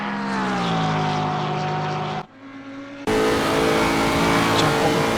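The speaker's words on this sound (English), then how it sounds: "the Porsche so good through those couple of corners, got such good traction coming out of them." Porsche race car engine in a racing video game at Monza, loud sustained high revs holding steady, a brief drop in pitch and volume as it lifts off, then a hard return to full power.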